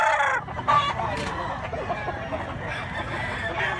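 A three-year-old bullstag rooster with a good stance crows at close range outdoors at a rural poultry spot in Mantalungon, Cebu, with a hint of clucking under the steady call.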